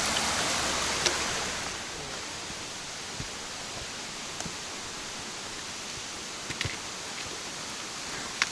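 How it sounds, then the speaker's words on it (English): Steady broadband rush of a small creek flowing beside a hiking trail on the Loyalsock Link Loop in June, continuous and moderately close, with a few faint clicks and rustles over the water. "here at this nice little creek that we've been following"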